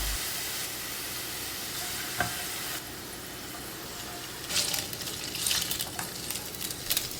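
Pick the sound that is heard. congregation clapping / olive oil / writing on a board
olive oil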